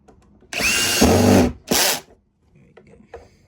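A power driver drives screws into a Eureka AirSpeed vacuum during reassembly: one loud, close whirring burst of about a second, then a shorter second burst, followed by faint handling clicks.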